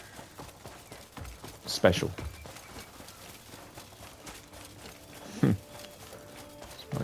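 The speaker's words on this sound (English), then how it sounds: "My horse? I think that's my horse." Horse hooves clopping in the Crimson Desert video game, two sharp hoof-like hits about three seconds apart over a steady low game backdrop, with a person talking throughout.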